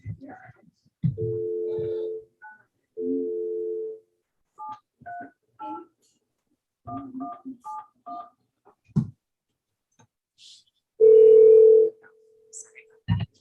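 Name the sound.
telephone dial tone after dialing 9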